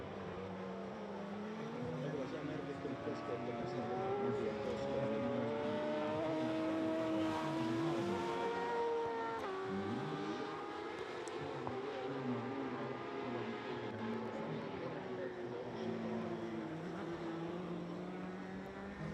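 Racing sidecar outfits at a road race, engines screaming as they approach and pass, with rising and falling pitch sweeps across several machines over a crowd and ambience bed, and a commentator talking throughout.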